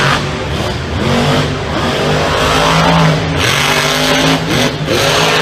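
Monster truck engine roaring at full throttle during a freestyle run at the Monster Jam World Finals, a loud continuous revving drone with shifting pitch, close and dominant, with arena crowd noise blended in.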